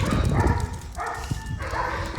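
Several angry dogs bark and yap on a walk, overlapping and continuous at moderate distance, with a human voice mixed in.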